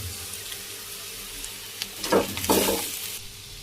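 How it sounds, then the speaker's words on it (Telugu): Potatoes frying in an oiled pan are stirred after a sprinkle of salt, with two short scraping bursts late in the clip over a faint, steady sizzle. "ఇప్పుడు కొద్దిగా సాల్ట్ చల్లుకొని మళ్ళీ కలుపుకోవాలి."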